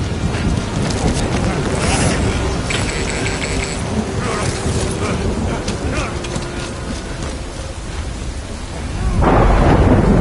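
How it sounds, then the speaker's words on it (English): Rain and a thunderstorm in Death Stranding, a continuous wash of rainfall and wind with rumbling thunder, swelling louder near the end, with voices talking over it. "Good thing it was raining."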